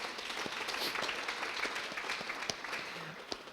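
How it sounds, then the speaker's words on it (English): Faint audience applause at a talk on verbal descriptions and inclusive design, a soft patter of scattered clapping with a few sharper individual claps standing out. "let's give them a hand of applause"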